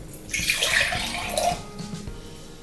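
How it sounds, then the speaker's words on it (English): Water splashes and runs steadily into a container for about a second, then a second shorter gush, close and moderately loud with no talking. "For that, I'm just going to fill it up with water,"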